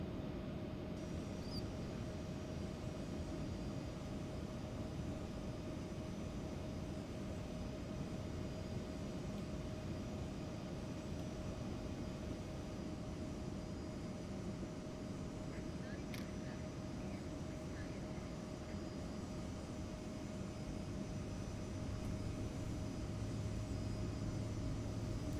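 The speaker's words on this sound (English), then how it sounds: "Starting pushback, and you may start engines." Embraer E175 jet engines spool up during pushback in X-Plane 12, heard as a steady whining drone with a constant tone over a broad, even rumble, continuous and moderately loud throughout, with no talking.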